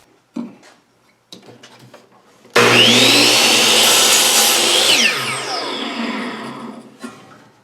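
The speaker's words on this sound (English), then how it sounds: "I started by cutting the 8-foot length in half for two 48-inch long pieces" A power saw cuts an 8-foot 1x2 wooden board in half: a few soft knocks, then a loud, close whining rip for about two and a half seconds that trails off and stops.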